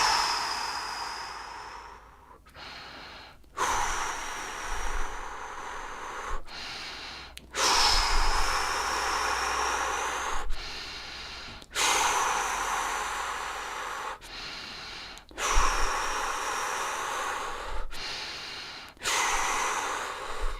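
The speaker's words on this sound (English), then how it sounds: "Keep breathing in and out and keep envisioning what you want." Slow, deep meditative breathing during a full moon ritual, long hissing inhales and exhales alternating with brief pauses, close and steady over about twenty seconds.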